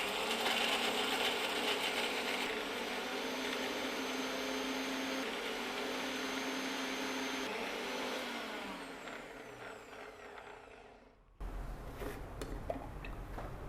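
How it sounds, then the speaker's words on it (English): A kitchen mixer grinder blends coconut with roasted pumpkin seeds, a loud steady whirring motor that runs continuously, then winds down and stops near the end, followed by quieter handling clatter. "We'll grind this along with the coconut. Let's grind the coconut first."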